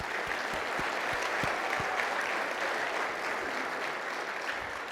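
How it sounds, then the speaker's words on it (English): An audience at a city's state-of-the-city event applauds in a dense, steady wash of clapping that holds evenly for five seconds. "Would you help me with a round of applause to thank them?"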